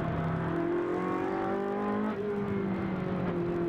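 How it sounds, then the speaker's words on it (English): Onboard a Ferrari Challenge race car during a race at Brno, the engine drones loudly at high revs, its pitch climbing steadily, dipping briefly at a gear change, then rising again. "we're on board with our race leader, Vincenzo Salto, the Rosso Corsa Pelin car,"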